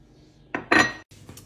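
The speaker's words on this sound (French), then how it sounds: "Et on va tout mélanger." Metal utensils clink and scrape briefly in a bowl while mixing paprika, five-spice, oregano and salt, two quick close rattling strokes.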